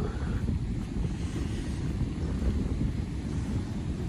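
Atlantic Ocean surf rolls in at a beach in St. Augustine, Florida, under strong wind buffeting the microphone, giving a constant broad rushing roar with no voices.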